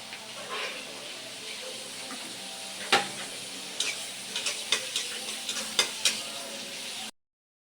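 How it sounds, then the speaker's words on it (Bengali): Onions frying in a kadai, a soft, continuous sizzle broken by scattered sharp clinks of stirring before it cuts off abruptly into silence. "যে কড়াই চাপাই দিলে এখন পেঁয়াজ ভাজা হবে।"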